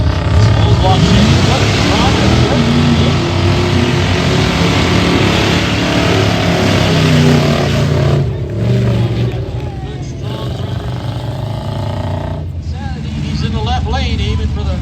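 A 1981 Chevy mud racing truck with an old block Chevy engine roars loudly at a mud racing track, revving hard in long bursts that dip briefly mid-run, with an announcer's voice and crowd noise over it.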